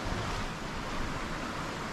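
Running water of Badger Creek in the Yarra Valley, Victoria, Australia, a steady broadband rush heard close and alone, with no talk.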